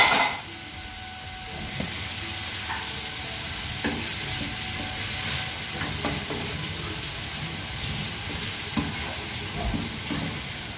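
Chopped tomato with salt sizzles steadily in a hot pan, a constant close frying hiss broken by occasional light clinks of a spoon stirring.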